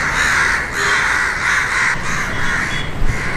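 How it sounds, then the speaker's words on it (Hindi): Crows caw overhead in a large park in Lucknow, a loud, close run of repeated harsh caws in steady bursts with short breaks between them, and no talking. "भाई ये कौवे इतने क्यों मंडरा रहे हैं मेरे ऊपर हैं?"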